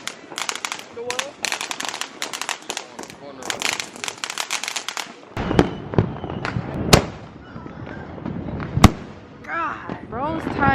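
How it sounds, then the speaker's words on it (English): Fireworks pop and crackle in rapid bursts outside on the 4th of July, dense clusters of small firecracker bangs followed by sharper, louder booms, with people talking nearby throughout. "bro's tying fireworks together"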